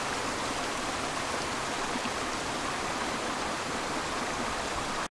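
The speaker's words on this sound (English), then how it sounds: "you can see there's quite a nice shot of the brook as it's coming down past all these boulders" A brook tumbles past boulders in Padley Gorge in the Peak District, a continuous, even rushing of water with no pauses and no voices.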